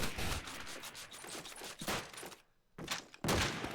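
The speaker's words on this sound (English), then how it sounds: "Using that M1 as a machine gun" Rapid M1 rifle fire in Call of Duty 2 during a competitive match, dense bursts of shots spaced like machine-gun fire, loud and close, broken by one short silent pause before the shooting resumes.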